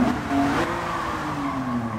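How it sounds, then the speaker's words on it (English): Mitsubishi GTO in the Gran Turismo 7 racing game accelerating hard under full throttle, a steady engine drone with tonal whine rising and shifting through the gears, continuous and fairly loud with no talk. "the Mitsubishi GTO is drive, so we should be able to just mash the throttle and get away pretty nicely"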